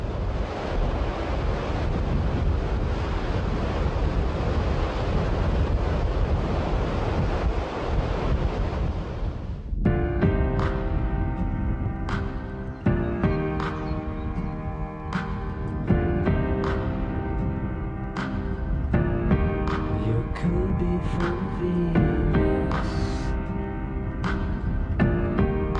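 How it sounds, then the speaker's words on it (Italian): Sea waves on the Costa Verde coast of Sardinia, a steady wash of surf and wind for about ten seconds before music takes over and the sea fades beneath it. "ascoltando il rumore del mare"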